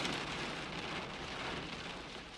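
Steady rain falls in a dense, even hiss close by, with no voices and no breaks across the whole stretch.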